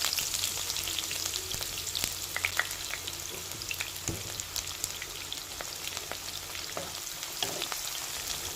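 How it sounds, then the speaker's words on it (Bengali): Chopped onion hits hot oil in a pan and fries with a steady, bright hiss and scattered crackling pops. The sizzle is moderately quiet and continuous, with no voices. "তেলটা গরম হয়েছে, দিয়ে দেব পেঁয়াজ কুচি।"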